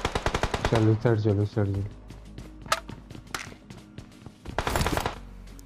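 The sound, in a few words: gunfire from a mobile shooter video game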